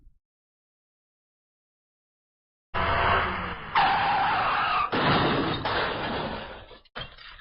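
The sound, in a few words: car crash sound effect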